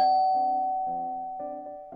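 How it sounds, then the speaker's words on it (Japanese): An intercom doorbell rings in an anime scene, a clean electronic ding-dong chime repeating several times in quick succession, alone with no talk. "こんな時間にインターホン鳴らすってことは関係者の人かな"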